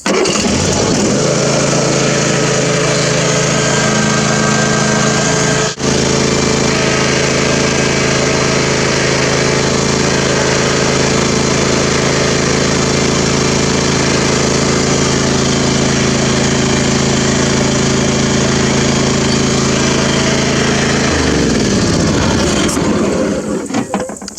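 A zero-turn lawn mower engine runs loud and steady for over twenty seconds while a stuck wheel is spun, a constant droning roar with a brief dip early on, then the engine note drops near the end.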